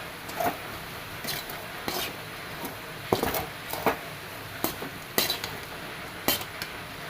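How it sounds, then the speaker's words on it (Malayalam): A spoon scrapes and clinks against a cooking pot as lentils are stirred for a pumpkin erissery, giving a run of sharp, irregular metallic taps close by with quiet gaps between them. "ഒന്ന് ഇളക്കി കൊടുക്കണം"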